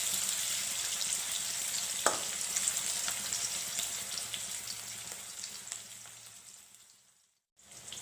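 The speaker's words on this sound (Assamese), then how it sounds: "মই এনেদৰে বইল কৰি থোৱা আলুখিনিও ভাজি লম" Boiled potatoes fry in hot oil with a steady, crackling sizzle close by, one sharp clink early on, fading out near the end; no voices.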